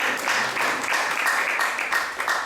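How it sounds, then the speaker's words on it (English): An audience at a Sunday ISKCON temple class in Atlanta claps together, a steady wash of applause with slight surges, fairly loud and continuous with no talk over it. "So let's give a round of applause for this wonderful seva."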